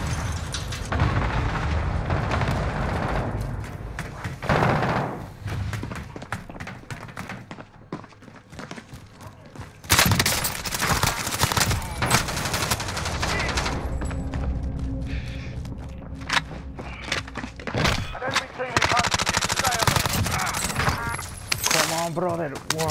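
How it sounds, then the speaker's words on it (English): Cluster strike explosions and scattered gunfire in Call of Duty Warzone: a dense run of loud booms and sharp cracks, with a sudden heavy blast partway through, followed by more rumbling detonations and shots. "Allied cluster strike inbound."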